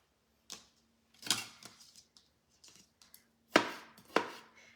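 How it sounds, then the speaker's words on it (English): A ceramic knife chops through tomato on a board in a kitchen, giving a handful of separate crisp cuts in two close bursts with quiet pauses between, near and clear with no talk. "I'm using our ceramic knife."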